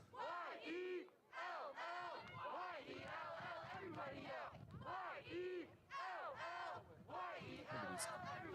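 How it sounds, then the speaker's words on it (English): Crowd chanting at a high school playoff soccer game between the Palatine Pirates and Libertyville Wildcats, many voices yelling in rhythmic, repeated phrases with short pauses between bursts, loud and close. "Here's some yells from the crowd"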